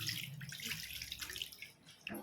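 Water pours steadily into a pan of fish curry at close range, a continuous splashing trickle lasting about two seconds with no voices.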